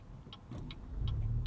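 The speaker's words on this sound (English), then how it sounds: "You can hear stop start there. It's a pretty quiet system. Listen to it start back up here." A 2018 Buick Regal Sportback GS engine quietly restarts after a stop-start shutdown, its low rumble swelling about two-thirds of the way through beneath a steady, soft ticking heard from inside the cabin.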